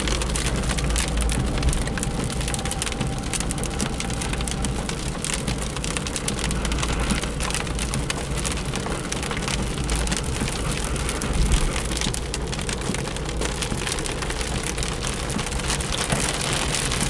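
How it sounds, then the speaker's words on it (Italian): Heavy rain pours down on a Fiat Panda while it is being driven, a dense, steady, loud drumming on the car that lasts throughout with no talking. "Ed ecco il diluvio. Bene così. Fantastico. Questa è pioggia."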